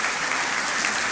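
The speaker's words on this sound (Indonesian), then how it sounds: "Kasih tepuk tangan untuk Tuhan Yesus." Congregation clapping for Jesus during a sermon, a brief, dense burst of applause from many hands, even and fairly loud the whole time.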